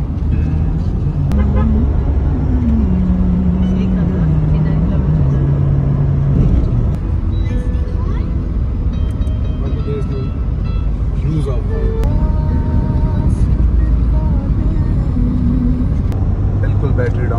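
A car cruising fast at around 130 to 140 km/h on a Pakistani highway between Karachi and Islamabad, with steady loud road and engine rumble throughout and voices talking over it.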